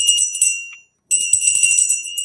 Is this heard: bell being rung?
yes